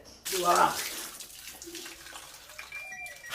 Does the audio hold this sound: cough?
no